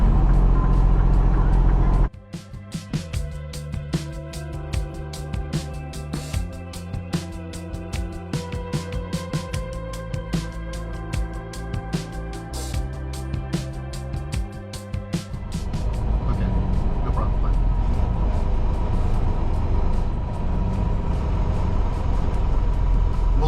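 A truck crawling up Interstate 81 in slow traffic, a low engine drone with rapid clicking from inside the cab for several seconds, then a louder, steadier road and engine rumble.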